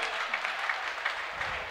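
Congregants at a church service clap together, a soft, even wash of many hands fairly far off, with faint rhythmic accents and low voices murmuring underneath.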